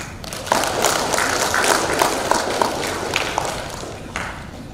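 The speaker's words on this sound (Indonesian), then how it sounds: "Tepuk tangan." An audience at an Indonesian advocates' congress applauds the newly sworn advocates. The clapping is steady and moderate, spread across a hall, with some faint background noise throughout.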